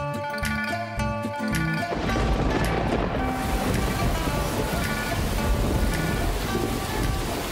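Heavy rain pours down in a steady, dense hiss that drowns out a fading tonal music bed, loud and close throughout with no voices.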